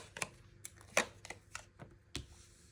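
A deck of tarot cards is shuffled by hand, giving quiet irregular riffles and snaps spaced apart, close and faint with no speech.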